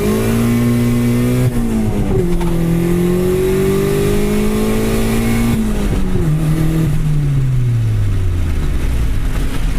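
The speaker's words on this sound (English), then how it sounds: "Revs clean and high, no problems. Doesn't hesitate, it just revs." A turbocharged Honda Civic D16 engine, running on colder NGK BRK7E spark plugs, revs loud and close, climbing and holding high rpm smoothly before the pitch falls back down as it settles.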